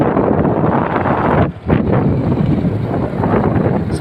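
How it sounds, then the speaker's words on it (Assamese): Breeze in a tea garden in Assam, heard as loud, continuous wind roaring against the microphone with one short dip partway through; no voices. "মিঠা মিঠা বতাহ আহি আছে।"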